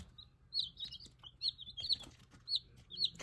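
Young Maran chicks, small chickens, peeping and clucking nearby: a run of high, repeated chirps in quick bursts over a quiet background, with no one speaking.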